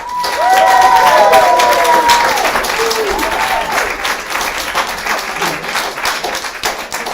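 An audience welcoming poet and performer John S. Hall to a live show, with loud, close clapping that rises quickly, holds, then slowly thins out.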